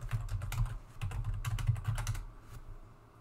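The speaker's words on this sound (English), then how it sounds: "To log in, I just need to type in my password." Quick bursts of typing as a password goes in on a computer keyboard at a terminal login, a close, rapid run of key clicks that stops abruptly, leaving quiet.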